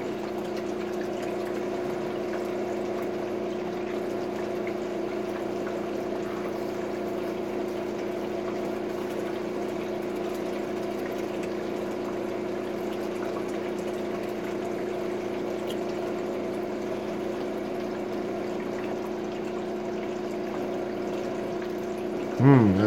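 Pumped water pours steadily through a sluice box used for sluicing IC chips, with a constant droning pump hum and even water flow lasting throughout, and a brief bump near the end.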